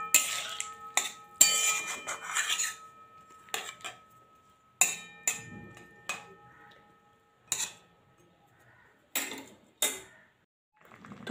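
A utensil scrapes and clinks against a pan while drumstick and potato curry is stirred with milk and garam masala, in short irregular bursts with quiet gaps, close and fairly soft, with no talk.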